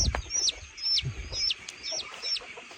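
Chickens cluck in short repeated bursts, close by, with sharp higher squawks roughly every half second over a quiet background.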